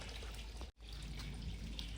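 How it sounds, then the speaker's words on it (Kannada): Well water flowing out and running off at a rural plantation, a soft continuous trickle and splash heard faintly and evenly, with a brief dropout partway through. "ಈ ಬಾವಿ ನೀರು ಹೆಚ್ಚಾಗಿ ಇಲ್ಲಿ ಹೊರಗಡೆ ಹೋಗ್ತಾ ಇದೆ ನೋಡಿ"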